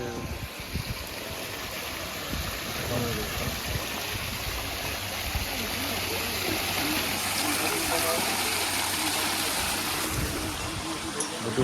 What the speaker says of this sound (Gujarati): ફુવારા ખાલી જો મસ્ત ફુવારા થાય ને.